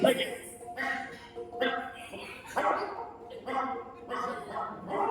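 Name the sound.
voice imitating a puppy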